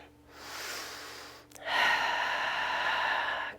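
Someone breathes during a low back exercise, first a long breath, then a brief catch, then a stronger, sustained exhale, close and fairly quiet with no speech.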